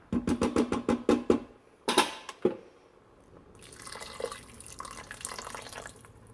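A rapid run of sharp knocks and taps at the start, then water pours into an Instant Pot for a couple of seconds, a soft, steady splashing fill close by.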